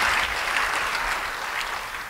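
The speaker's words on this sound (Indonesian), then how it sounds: "Beri tepuk tangan bagi Tuhan." Congregation clapping in a church service, a steady dense applause throughout at fairly close range, with no talking over it.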